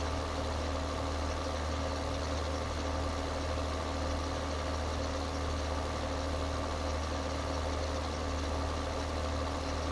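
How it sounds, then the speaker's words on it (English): A tractor engine idles steadily in Farming Simulator 2013, a continuous even low drone with no variation and no voices, on a farm used for raking hay. "So this tractor's pretty much main workhorse on the farm, actually."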